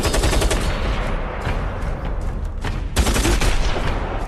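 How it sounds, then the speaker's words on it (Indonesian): Rapid automatic gunfire in a film shootout scene where a hidden employee attacks, dense loud bursts of shots crackling almost without pause, with a brief lull midway before another burst. "tiba-tiba salah satu karyawan Vertigo yang bersembunyi menyerang dan menembak"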